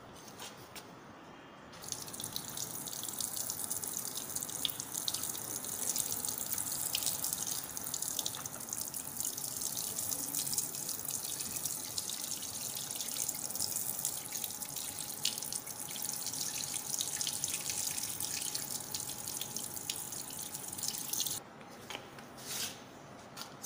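Tap water streams steadily over a test tube to cool a solution in a chemistry lab, a continuous close hiss of running water that stops abruptly near the end.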